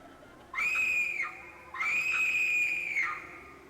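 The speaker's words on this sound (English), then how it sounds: "it's just a spooky scream" Two long, high, wavering screams ring out in the haunted-house puzzle game The 7th Guest. The first is shorter, the second more drawn out, both loud and close with no talk around them.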